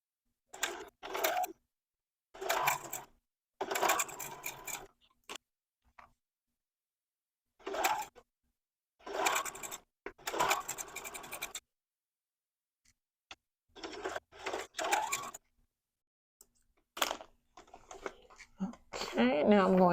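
A sewing machine stitching a 2.5 inch fabric strip for a quilt block, with short bursts of rapid mechanical whirring separated by silent pauses, close and fairly quiet.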